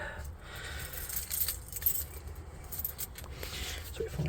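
Car keys jangle close by in quick metallic clinks before going into a Fiat 500 ignition, with a low rumble running underneath.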